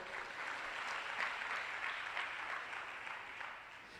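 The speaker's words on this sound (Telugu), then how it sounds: "కొట్టు చప్పట్లు ఒకసారి" Congregation clapping during a Telugu church service, a soft, distant and steady wash of applause that fades slightly toward the end.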